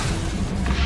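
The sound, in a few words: spell effects cast in the video game Hogwarts Legacy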